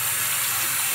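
Tap water runs in a steady, close rushing stream while freeformed hair is rinsed, a constant hiss with no voices.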